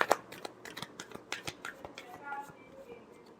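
Tarot cards are shuffled by hand, giving quick papery riffles and soft slaps in uneven bursts, close and fairly quiet.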